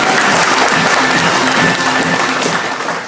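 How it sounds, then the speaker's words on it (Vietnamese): Loud, sustained audience applause at a seminar in Saigon, many hands clapping steadily before gradually tapering off. "Một tràng pháo tay cho anh Phục Hưng và chị Đức Hưng."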